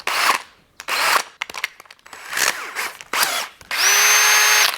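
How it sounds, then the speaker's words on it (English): A power drill fitted with a tile cutting bit on an M14 thread whirs in several short loud bursts, then runs steadily at the end, with no talking. "this bit will go straight into your drill"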